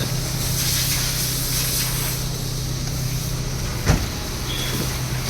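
A Maruti 800 car fitted with an upgraded power steering module drives along with a steady engine drone and road rumble, a single brief knock partway through, no talking.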